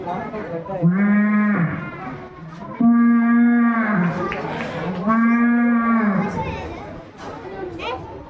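A voice imitates a cow at a school inter-house cultural competition, giving three long, low mooing calls in a row, each drawn out for about a second or more, close and loud.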